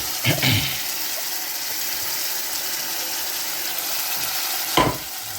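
Saltfish and pak choi fry together in a pan with a steady low sizzle, marked by two sharp scraping stirs, one near the start and one near the end.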